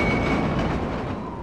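A train in The Warriors video game rumbles steadily with a broad, loud rolling roar and a faint high whine running through it, continuous with no talk.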